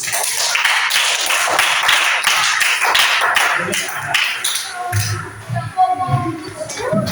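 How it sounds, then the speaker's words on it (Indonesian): Classroom group applauding together during a teaching session, a dense burst of hand claps and taps filling the opening seconds, then thinning as voices take over near the end. "Tepuk tangan untuk kita semua."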